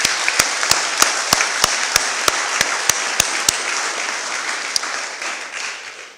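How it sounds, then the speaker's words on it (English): An audience at a Veterans Day program in Molalla, Oregon applauds the quilt makers, loud, close clapping with a few sharp individual claps on top of the crowd's patter that gradually fades. "I think a round of applause for Janelle and all these women who put these quilts together."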